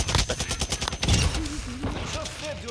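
Rapid automatic gunfire in Call of Duty Modern Warfare II, a close, pulsing string of shots that eases into softer rattling, with a voice talking over it.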